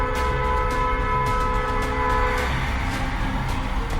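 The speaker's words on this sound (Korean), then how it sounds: "직진하려던 차량들이 일제히 경적 울리고 난리가 났습니다" Several car horns blare together at a car that crossed the center line to make a wrong-way left turn, their sustained, overlapping tones ringing over the hum of traffic.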